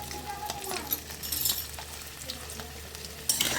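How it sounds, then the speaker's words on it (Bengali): Potatoes frying lightly in oil in a kadai for a chicken stew, a constant dense sizzle with occasional louder crackling bursts and a light stir near the end, close and steady. "আলুগুলো একটু হালকা করে ভেজে নেব"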